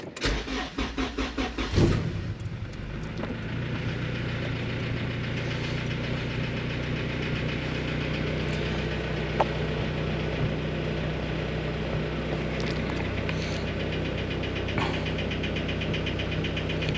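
A car engine cranks with rapid rhythmic churning, catches, and settles into a loud, uneven rumbling idle with occasional knocks.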